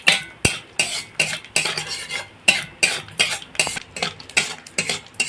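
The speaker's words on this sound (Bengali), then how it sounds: "ফোড়নটা একটু ভাজা ভাজা করে নেব" Cardamom, cinnamon and cloves fry in mustard oil for an egg Afghani curry, heard as a close, rhythmic run of scraping stirs against the pan about twice a second over a faint sizzle.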